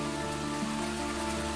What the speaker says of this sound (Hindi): ऐसा लग रहा था जैसे बारिश की बूंदें पेड़ पौधों के साथ मिलकर एक नई सरगम बना रहे हैं